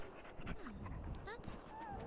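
The companion dog in the fantasy video game Dragon Age whimpers with soft, high whining cries over a quiet, low game ambience, with someone talking nearby.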